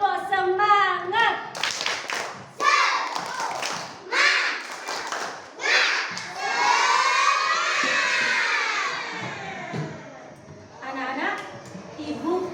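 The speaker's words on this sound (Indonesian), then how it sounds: "Nah, tepuk semangat." Children in a classroom perform a rhythmic 'tepuk semangat' spirit clap, bursts of patterned group clapping mixed with chanting and shouted voices, close and lively, with a teacher's voice among them.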